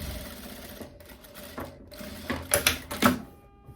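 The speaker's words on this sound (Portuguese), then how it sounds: "Eu venho aqui, costuro em cima do bolso, pra reforçar, prendendo a sobra ali pro lado do bolso" Sewing machine stitching over the pocket of a long linen skirt to reinforce it, a continuous low mechanical whir with a few louder clacks toward the end, close and without talk.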